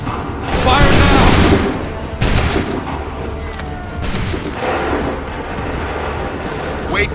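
Musket volley fire in Assassin's Creed III Remastered: deep, rumbling massed shots burst out, the loudest near the start, followed by further blasts over a noisy battlefield with shouting voices.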